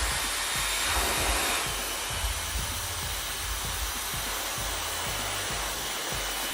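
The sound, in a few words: blow dryer drying hair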